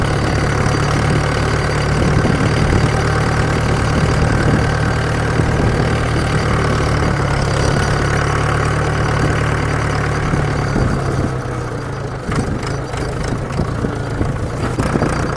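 A loaded tractor creeps through soft sand in second gear, its engine a loud, steady low-pitched drone with a knocking edge. The drone continues unbroken, then thins slightly near the end.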